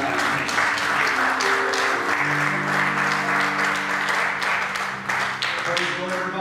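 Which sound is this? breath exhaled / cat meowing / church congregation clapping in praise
church congregation clapping in praise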